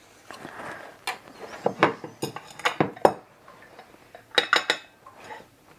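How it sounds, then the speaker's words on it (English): A knife scrapes and clinks against the inside of a mould, working a panna cotta loose, in a series of close, uneven metallic taps and scrapes with brief pauses between them. "Another round twist with a knife."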